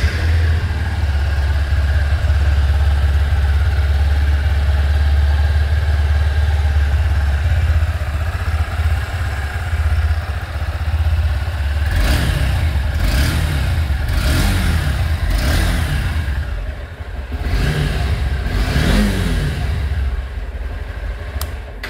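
A Honda CB200X motorcycle idles with a low, smooth exhaust rumble, then a few sharp revs blip up and fall back, heard close and without talk.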